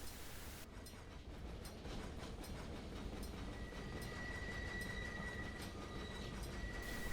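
A locomotive rolls steadily along the track in a train simulator game, a continuous low rumble of rail and wheels with a faint sustained squeal creeping in partway through, no talking.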